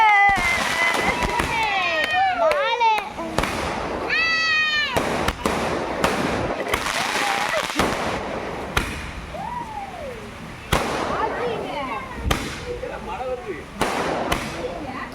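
Repeated sharp firecracker bursts crack through the clip, interleaved with rising whistles, amid a noisy crowd in a village with people talking and shouting.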